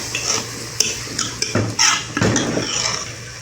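Fried chana dal is served out of a cooking pot with a metal spoon, giving several clinks and scrapes against the pot with a soft stirring rustle between them.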